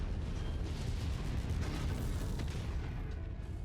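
A missile explosion in the MechWarrior 5: Mercenaries video game, a dense, sustained low rumbling blast that fills the whole moment, loud and close, with no talk over it.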